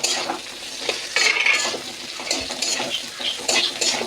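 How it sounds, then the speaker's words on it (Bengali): Bitter gourd and pumpkin fry in a pan while a metal spatula stirs them, scraping and clinking against the pan over a constant sizzle, fairly close and loud. "আমি এর মধ্যে উচ্ছেগুলোও দিয়ে দিই, আর একটু নেড়ে নিই"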